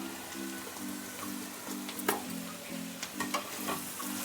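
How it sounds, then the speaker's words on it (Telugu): Radish frying with spices such as chilli powder, salt, cumin powder, turmeric and coriander powder in a pan, with a steady low sizzle and a rhythmic scraping stir that repeats about every half second, close and moderate in level. "ఇది ఒక్క నిమిషము ఫ్రై చేద్దాం"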